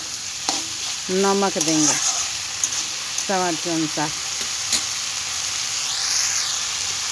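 Mixed vegetables sizzling and frying in oil in a pan while being stirred, a steady soft hiss with scraping stir strokes; a person speaks briefly at moderate volume in between.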